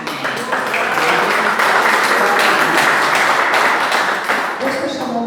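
A church congregation claps in praise during a worship service, a loud, dense wash of clapping lasting throughout, with voices mixed in.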